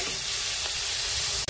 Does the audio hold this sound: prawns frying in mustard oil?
yes